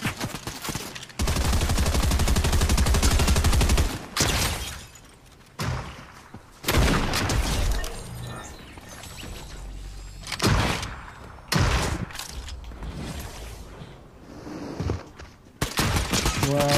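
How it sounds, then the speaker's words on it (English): Gunfire in the battle royale video game Fortnite, with a long sustained burst of rapid shots followed by scattered volleys and single heavy cracks, loud and close, a voice briefly talking in between. "Definitely heard gunshots in this direction."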